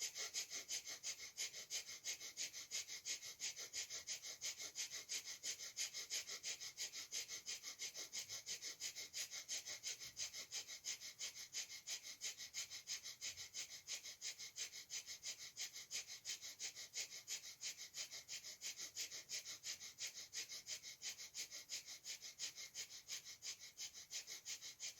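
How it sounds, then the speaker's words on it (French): Breath of fire, a rapid rhythmic breathing exercise done in a yoga-style energy session, comes as a long unbroken run of fast, even, hissing breaths through the nose, close and steady for the whole stretch with no talk. "vous allez à nouveau faire la respiration du feu"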